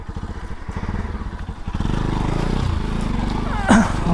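An NS 200, Duke 200 or Royal Enfield motorcycle chugs and then revs hard while off-roading through mud in heavy rain, a loud, close engine with a rising roar and clattering underneath.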